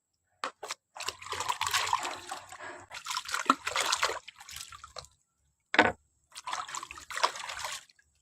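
Running water while lemongrass is washed, splashing and trickling in several bursts separated by short quiet gaps, close and fairly loud.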